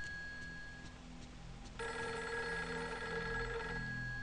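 A telephone rings inside the horror video game Fatal Frame 3, a steady electronic bell tone that starts faint and then swells louder and fuller partway through, sounding alone over a low ambient game drone.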